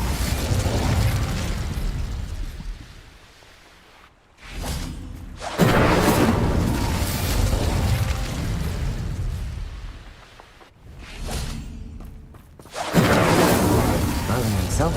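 A fiery Incendio spell blasts repeatedly in Hogwarts Legacy, loud roaring bursts of flame with whooshing swells, pausing briefly between casts, with a voice speaking over the game sounds.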